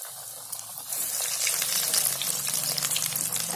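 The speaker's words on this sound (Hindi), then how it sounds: "अब मैं थोड़े से रोल भी फ्राई करूंगी।" Fish potato rolls frying in hot oil, a steady dense crackling sizzle that rises after the first second and holds close and fairly loud, with no voices.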